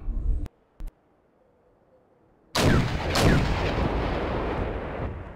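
Mortars firing in the real-time strategy war game Wargame: European Escalation, two sharp isolated reports followed by a pause, then a loud sustained barrage of booming blasts rolling on to the end.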